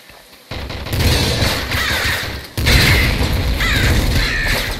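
Bird enemies in the video game Nuclear Throne give harsh, repeated cawing calls over dense game noise and gunfire bursts, loud and continuous throughout.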